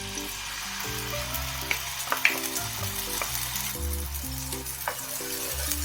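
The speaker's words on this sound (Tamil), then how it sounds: "சேர்த்துட்டு இந்த நெய்லயே வந்து இதை நல்லா ரோஸ்ட் பண்ணிடணுங்க" Jackfruit paste frying in ghee in a pan, giving a steady close sizzle with brief stirring scrapes and spatters throughout.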